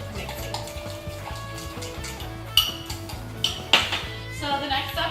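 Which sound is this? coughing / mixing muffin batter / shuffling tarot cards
mixing muffin batter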